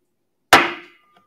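An auctioneer's gavel comes down at a fine art and antiques sale, a single loud, sharp wooden crack up close that rings briefly and fades, then a faint small tap, with no voices.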